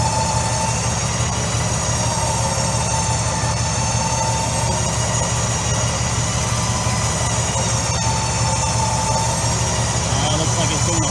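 Badland Apex 12,000 lb electric winch with synthetic rope, its motor whining and droning steadily at close range without pause as it spools in.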